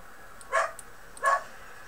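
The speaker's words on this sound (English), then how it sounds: "JJ's being on a soft bark right now, so he's not barking heavy" A dog named JJ gives two soft, short barks about a second apart, fairly close and alone against a quiet background.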